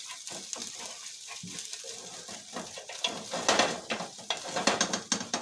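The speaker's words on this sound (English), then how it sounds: "It actually sears the outside of the coating of the sausage, which sears the flavor in the sausage." Flour-coated pork maple sausage searing in a pan, with soft sizzling and occasional clinks and stirring scrapes, close and moderately quiet.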